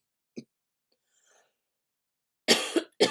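A single short cough sounds indoors at home in a quiet room, with a faint rustle after it, followed by a burst of louder coughing or throat-clearing near the end.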